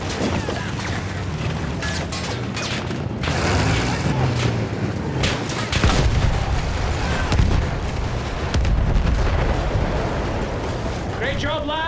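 Field gun artillery fires in a video game battle scene, deep booming blasts recurring every few seconds amid dense gunfire and explosions, with voices shouting over the combat noise.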